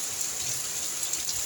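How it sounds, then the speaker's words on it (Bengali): Steady rain pours down outdoors at a home, a dense continuous hiss with no talk in this stretch. "কি বৃষ্টি পড়ছে, বৃষ্টি"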